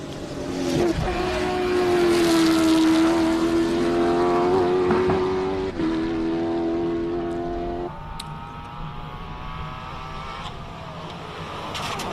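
A race car on a qualifying run at the Simola hill climb roars through sustained engine revving that climbs and shifts, loud at first and then easing slightly as it pulls away, with no voices.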